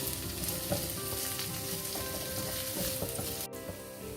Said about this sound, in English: I have over here some spring onions cut in cubes. I'll be adding that as well.